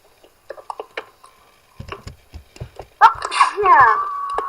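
One sharp sneeze bursts out close to a microphone during Team Fortress 2 voice chat, after scattered clicks and taps, and then a voice talks.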